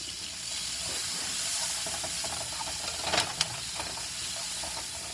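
Chopped whole onion sizzling in a pan while cube steak with black pepper gravy is being cooked, a steady broad hiss close up with a brief clatter of stirring midway.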